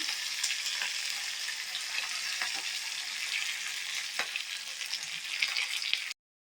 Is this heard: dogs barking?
no